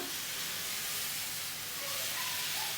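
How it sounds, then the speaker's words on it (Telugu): Dosa batter sizzles on a hot griddle with a steady, loud broadband hiss that holds evenly throughout, with no voices. "చూడండి నేను ఒక దోశను అయితే వేస్తున్నాను"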